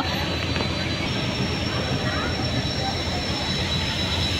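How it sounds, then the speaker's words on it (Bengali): Engine of a passenger launch at full speed on a river, a steady, loud droning rumble with a faint high whine running throughout, continuous and unbroken. "লঞ্চটা এখন ফুল স্পিডের সামনের দিকে টান দিছে"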